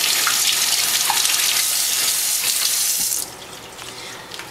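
Potatoes rinsed under a running kitchen tap, a steady close splash of water that drops off sharply as the flow is cut near the end.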